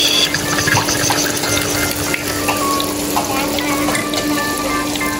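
Tempeh sizzles steadily in hot cooking oil in a home kitchen, a dense continuous crackle and hiss close up, with no talk over it.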